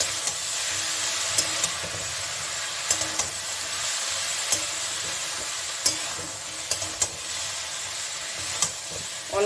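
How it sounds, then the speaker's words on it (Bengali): Mustard, poppy seed and coconut paste frying in a pan for shukto, a steady close sizzle with occasional scrapes and taps of a stirring spoon, no voices. "এখানে আছে সর্ষে, পোস্ত আর হলো নারকেল। এটা দিয়ে আমি একটু ভেজে নেব।"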